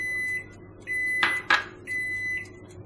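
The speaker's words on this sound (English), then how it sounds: "This is the sound of oven, right?" An appliance beeps in short electronic tones, with two louder, sharper clicks or clunks in the middle; quiet room, no voices.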